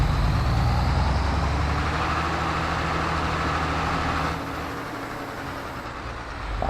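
New Holland FR450 forage harvester running on a farm, a dense, loud mechanical roar with heavy low rumble and broad whirring, holding steady and then dropping slightly in level partway through.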